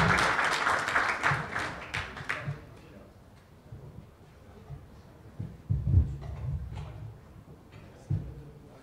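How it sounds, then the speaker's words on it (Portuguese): An audience applauds the speakers at the close of a panel on new tools and technologies, a burst of clapping for about two seconds that fades out, followed by talking and a few low thumps. "Uma salva de palmas para os palestrantes."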